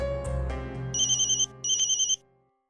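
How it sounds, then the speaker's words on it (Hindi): A phone ringtone plays during setup of a conference call, two bursts of a bright electronic warbling ring following a short opening tone, clear and close with no talking. "मैं टीटी को कॉन्फ्रेंस पर लेती हूँ"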